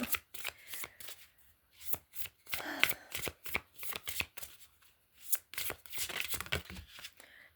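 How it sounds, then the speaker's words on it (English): Tarot cards are shuffled by hand in short riffling bursts with soft slaps between, close and fairly quiet. "Alright, I'm going to shuffle the cards now."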